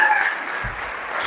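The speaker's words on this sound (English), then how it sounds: "So give Soraya a round of applause." Applause for Soraya from an audience at a mindset talk, a broad wash of clapping that holds steady and fairly loud through the short moment with no voice over it.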